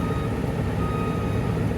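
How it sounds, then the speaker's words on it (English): Truck backing up while a crane unloads scales from it, with reversing beeps sounding over a steady engine rumble in a continuous, loud outdoor mix. "It's the crane. They're trying to getting the scales off the truck."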